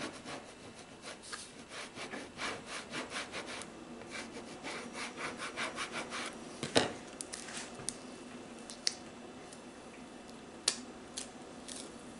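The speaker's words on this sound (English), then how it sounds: "Then we're going to burnish it down." Rapid rhythmic rubbing strokes as a decal is burnished onto a Dollar Tree craft heart, a scratchy back-and-forth scraping close up, with a couple of sharper clicks partway through.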